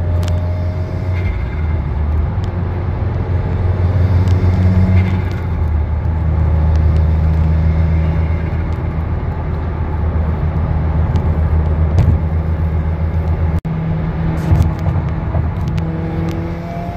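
2015 Subaru WRX with a catless downpipe cruising from inside the cabin, a steady low exhaust drone with rising and falling turbo spool whine and occasional faint clicks, no talking.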